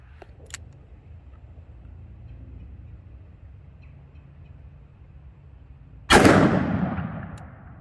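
A S&W Model 69 2.75-inch .44 Magnum revolver fires a single PMC 180 grain jacketed hollow point round, one sharp, loud blast that rings out and decays after several seconds of quiet background.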